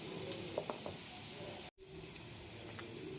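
Potatoes fry in a pan with turmeric and cumin, giving a soft, steady sizzle heard close up, with one brief cut in the middle.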